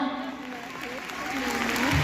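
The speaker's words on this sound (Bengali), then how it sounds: "আরেকটু জোরে হাততালি দাও" Audience applause building through a makeup masterclass event, steady dense clapping that swells slightly louder toward the end.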